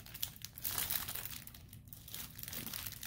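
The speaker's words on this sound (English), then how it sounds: "I picked up some decorative mesh. I purchased 2 red. It has like the red foil running through it." Red decorative foil mesh is crinkled and handled up close, giving a steady run of crisp, papery rustles with no voices.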